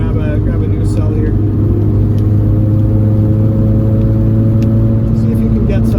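A freshly rebuilt rotary engine in a Mazda FD RX-7 drones loud and steady as the car accelerates on the road, with people talking inside the car.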